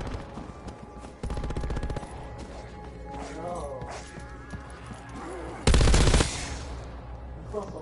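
Gunfire in a zombies video game: rapid automatic bursts, a short volley early on and a louder, harsher burst later, over background game sounds.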